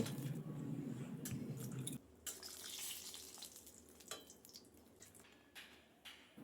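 Lentil bori dumplings fry in oil left from frying fish heads, a steady close sizzle with soft squishing and stirring clatter, louder and denser for the first two seconds, then a lighter bubbling crackle with occasional utensil taps.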